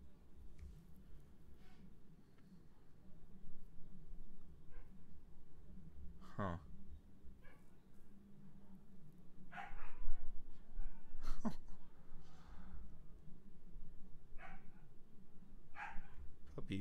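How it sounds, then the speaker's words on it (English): A puppy barks and whimpers indoors at a distance, with a few short yips breaking through steady background noise while a person talks over it. "Puppy's getting upset over there."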